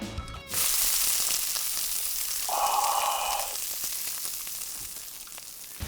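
Steady, loud sizzling of mushrooms and pancetta frying in a hot pan, with occasional crackles and a brief stir partway through.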